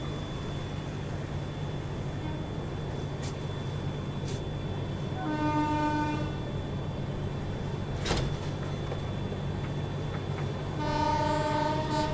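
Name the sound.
oncoming train passing at crossing, Kasara Ghat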